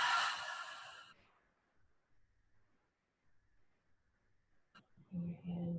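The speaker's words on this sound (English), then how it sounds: "Let's close our practice with one nice, long, cleansing breath." One long, loud exhale through an open mouth closes a yoga practice. It fades over about a second into near silence, followed by a few faint soft sounds.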